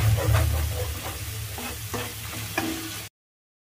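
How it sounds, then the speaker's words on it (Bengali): Curry gravy with garam masala powder sizzles while being stirred in a pan for a vegetarian besan pakoda curry. A loud, steady frying hiss is broken by a few scraping strokes, then the sound cuts off abruptly. "আর 1 চামচ দিয়ে দেবো গরম মশলা গুঁড়ো, একটু ভালো করে নাড়াচাড়া করে নিতে হবে।"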